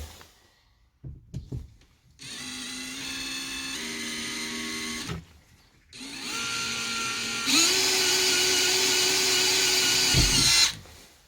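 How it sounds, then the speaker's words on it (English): A power drill drills a hole in a school bus conversion door for a lock, whirring in two long runs separated by a brief pause, its pitch rising partway through each, with a few clicks at the start. "So let's drill the first hole, test fit everything, and see how we get on."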